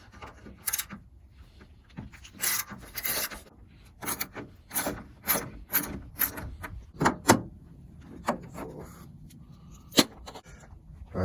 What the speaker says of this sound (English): We're gonna loosen these 10 mils up.